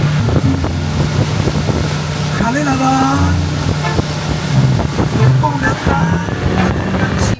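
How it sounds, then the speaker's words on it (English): Speedboat ride between Colombian towns, a loud continuous outboard motor drone with wind buffeting the microphone and water rushing past, with bits of engine pitch shifting throughout. "we're taking this speedboat instead of the ferry"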